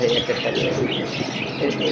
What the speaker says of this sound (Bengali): এই কবুতর হবে নর কবুতর ভাই